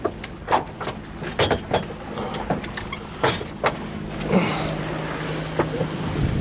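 A small sailboat rounds up slowly to windward at sea, with steady wind buffeting the microphone, water sloshing against the hull and irregular creaks and knocks from the boat.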